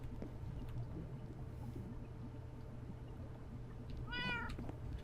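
A wither cat mob from the Minecraft FTB Infinity modpack gives one short, rising meow near the end, over a steady low hum of game ambience.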